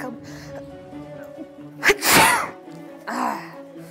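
A single loud, close sneeze with a sharp intake beforehand, over a faint steady hum, followed by a softer breathy sound.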